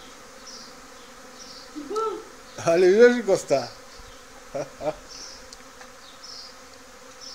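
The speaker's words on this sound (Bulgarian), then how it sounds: "живо как се хваща рой в предварително заложен капан" A swarm of honeybees hums and buzzes around a pre-set swarm trap being used to catch them. The buzzing is close and fairly soft, and someone speaks briefly over it.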